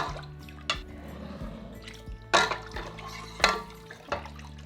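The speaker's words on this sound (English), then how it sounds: "we are going to top each one of these jars off with the brine" Pickle brine of vinegar and water is poured into canning jars, giving intermittent splashes and drips with brief louder pours, close and quiet, no talking.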